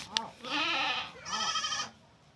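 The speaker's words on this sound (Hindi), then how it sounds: "ये सब बकरी की आवाज़ें हैं।" Goats bleat twice in quick succession, each a loud, wavering cry of about half a second, close by with nothing else around them.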